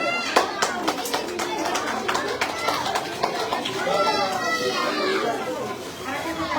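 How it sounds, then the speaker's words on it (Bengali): Scattered hand claps ring out at a teacher's retirement farewell at a school, brisk and uneven at first, then fading into the lively chatter and shouts of many children. "হাততালি দেওয়ার সময়"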